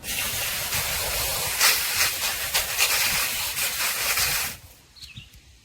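Running water rinses the sponge filter of an AQUVII cordless robotic pool vacuum, a steady close hiss and splash that cuts off near the end, leaving a quiet tail.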